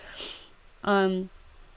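A person sniffles once with a brief breathy intake, followed by a short voiced nasal sound, close and clear against a quiet room.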